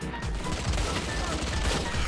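Rapid gunfire in the video game Valorant rattles in dense, overlapping bursts that carry on continuously at moderate level, with faint voices mixed underneath.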